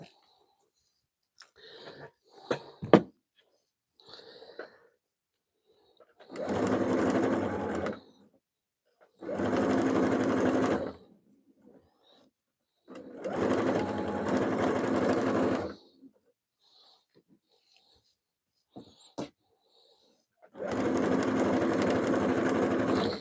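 Smooth-running sewing machine stitching a project in four separate bursts of steady whirring, each a few seconds long, with quiet pauses between them filled by light clicks and handling noises.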